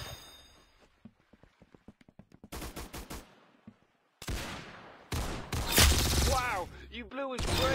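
Gunfire in a video game shooter: sharp single shots and quick bursts crack in succession, some rapid like automatic fire, with voices talking in between.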